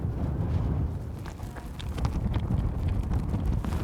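Strong, cold wind buffets the microphone outdoors near Prague with a constant low rumble and gusty roar, no voices.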